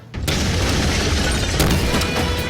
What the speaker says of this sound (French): On a eu des explosions de micro-ondes